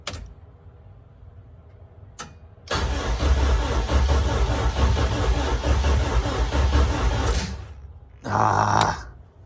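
A weak-battery car engine, nicknamed the Evil Minion, cranks and churns loudly for about five seconds without firing, followed after a pause by a second, shorter loud cranking burst.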